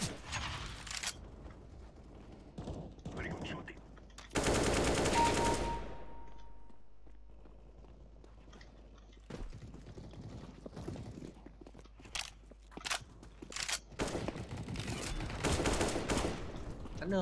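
Gunfire in Counter-Strike: Global Offensive, with several loud rapid bursts of shots, a long dense volley near the middle and more clustered shooting toward the end.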